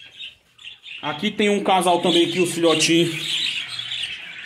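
Rainbow budgerigars, a pair with the female in the nest box, give harsh squawks and chirps close by while someone speaks over them.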